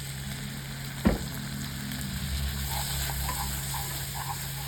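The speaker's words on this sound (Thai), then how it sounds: "พอเราผัดจนเขาแห้งๆเนี่ยนะคะ มันเริ่มมันเริ่มแห้งเราก็เติมกะทิเข้าไปอีก" Curry paste stir-fried in coconut milk sizzles steadily in a pan, a soft continuous frying hiss with one sharp knock of the utensil early on and faint bubbling after.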